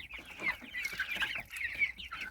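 Chicks and ducklings in a brooding box peep constantly in high, overlapping chirps. The chorus is close, dense and steady throughout.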